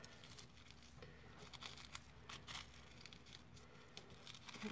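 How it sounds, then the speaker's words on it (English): Paper being accordion folded for a paper flower craft, soft close crinkles and light creasing rustles in uneven bursts, fairly quiet. "you're gonna start with an accordion fold at the bottom. So you're gonna fold it up and then you're going to flip it over, fold it again"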